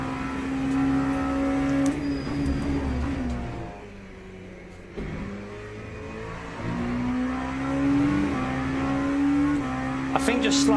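An LMP2 prototype race car engine in the Le Mans Ultimate racing game, revving high and cycling up and down through shifts with a steady whine, briefly dipping before climbing again.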